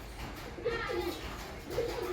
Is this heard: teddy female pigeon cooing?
yes